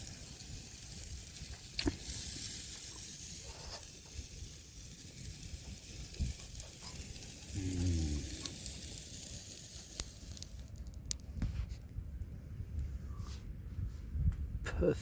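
Fish and prawn skewers with vegetables sizzling on a bush grill at Quobba Point, a constant soft crackling hiss outdoors with occasional pops and brief rustling handling noises.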